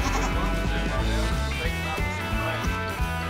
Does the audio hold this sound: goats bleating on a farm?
yes